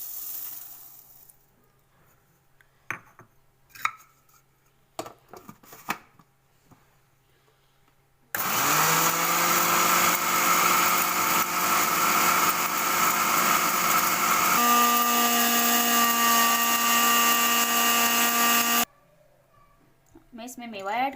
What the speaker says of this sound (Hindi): अब मैं चीनी को मिक्सी में डाल के अच्छे से ब्लेंड कर लूँगी।